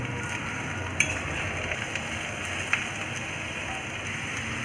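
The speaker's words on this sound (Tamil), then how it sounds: "நீங்கள் வச்சுருக்க பாவக்காயை இதில் ஆட் பண்ணிக்கோங்க ஏன்னா ரெண்டும் சேர்த்து தான் நம்ம வதக்கணும்" Onion and bitter gourd sauté in a pan with a constant close frying sizzle, steady and dense, with a couple of small sharp pops or spatula taps along the way.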